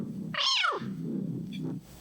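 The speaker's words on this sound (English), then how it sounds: "Look at the kitty." A single cat's meow, a clear rising-and-falling cry close by, followed by a softer murmur, with no talking during the sound.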